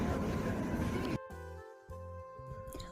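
A train rumbles in, loud broadband noise that suddenly drops to steady low mechanical hum and tones, like a train slowing and stopping.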